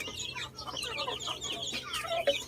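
Chickens just let out of their coop cluck and chatter in a busy backyard flock, with many overlapping short calls at moderate distance and no talk.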